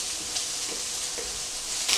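Vegetables frying in a dry pan over medium-high heat, a steady soft sizzle with a few light stirring scrapes, close and alone.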